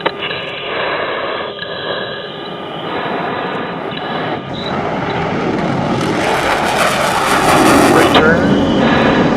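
US Air Force Thunderbirds F-16 jet taking off and climbing, a loud, steady roar of jet engine and afterburner that swells and brightens as the aircraft gets airborne, heard continuously from close by in the cockpit.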